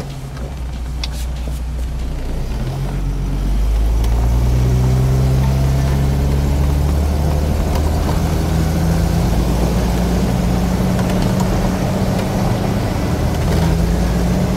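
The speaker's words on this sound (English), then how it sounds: "let's get in this thing and let's go for a drive" Engine of a fuel-injected 1984 Toyota SR5 4x4 pickup hums loud and steady from inside the cab, the pitch shifting up through the gears while it drives across open desert terrain.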